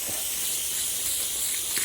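Garden sprayer misting tomato plants on a homestead, a steady, close, continuous hiss of spray that lasts the whole short stretch without a break.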